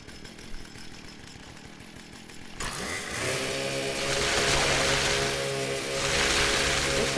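A chainsaw in the Fallout 76 video game starts up partway through and keeps running as a loud, buzzing two-stroke drone that swells and eases slightly, following a quieter stretch of background game noise.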